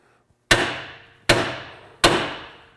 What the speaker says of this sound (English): we're going to try and hit these with a hammer and see if we can knock them loose